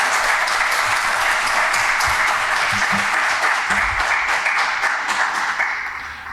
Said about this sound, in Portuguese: o qual também peço uma grande salva de palmas